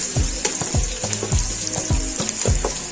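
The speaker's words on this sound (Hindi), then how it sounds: "इसको इसके साथ अच्छे से भुनाई कर लेंगे इसकी प्याज के साथ" Onion sizzles in a pan over medium flame for savoury namkeen seviyan, a steady close frying hiss broken by regular scraping stir strokes, with no talking.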